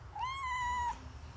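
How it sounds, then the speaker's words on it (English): A cat named Shelly gives a single clear meow, rising then holding steady, close by and alone against a quiet garage background. "One meow for yes."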